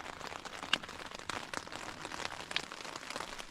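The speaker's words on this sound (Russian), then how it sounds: "дождь все-таки нас нагнал" Steady rain patters all around in a forest during a thunderstorm, a dense broadband hiss with a few sharper drops standing out, no voices.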